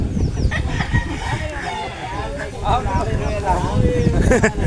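Roosters cluck and crow amid a crowd at a sabong cockfight in the Philippines, bird calls mixed with lively chatter and laughter close by, with scattered clattering.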